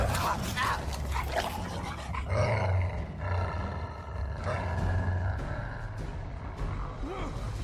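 A giant attack dog in the video game Dead to Rights: Retribution growls and roars in a long, rough, continuous rumble, loud and close, with game noise layered around it and swelling surges every second or so.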